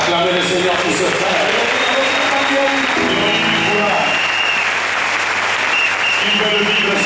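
A church congregation at a French-language Sunday service bursts into loud, sustained applause that fills the room, with a voice briefly rising over the clapping.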